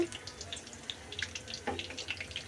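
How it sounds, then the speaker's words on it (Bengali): Flower-shaped pitha cakes bubble in hot oil, a faint, brief patter of small pops and gurgles heard close. "তেলটা গরম হয়ে গেছে এবার আমি দিয়ে দিব ফুল পিঠাগুলো তেলের মধ্যে"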